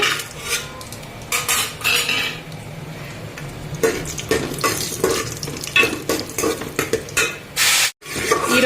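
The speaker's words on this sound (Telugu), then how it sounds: "కొంచెం నెయ్యి వేసుకుని జీడిపప్పులు వేపుకుందామండి" Cashews fry in ghee in a pan for dum biryani, with continuous sizzling and a metal spoon scraping and stirring in quick irregular strokes, close and fairly loud.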